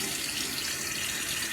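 A tap runs steadily into a sink for wetting the face before a shave, a dense, even hiss of water close by with no talk.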